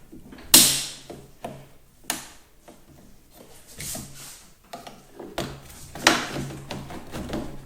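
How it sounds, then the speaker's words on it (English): A screwdriver prying at the plastic clips of a reverse module key switch on a Cub Cadet XT1 mower, giving a series of sharp clicks and snaps spaced irregularly, two of them louder cracks, with quieter scraping between. "I'm going to go ahead and get my screwdriver under there, kind of where I think those clips are."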